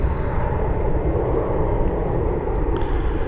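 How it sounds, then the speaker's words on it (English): Aer Lingus Airbus A320 departing Dublin Airport for London Heathrow, a loud, steady jet engine roar with broad rumble filling the scene from start to finish. "this A320 that's heading over to London Heathrow"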